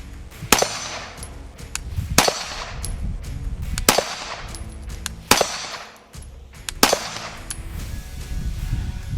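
Canik TP9 SFX pistol dry-fired repeatedly, six sharp metallic trigger breaks spaced evenly about every second and a half, each followed by softer reset clicks, close and clear with no talk.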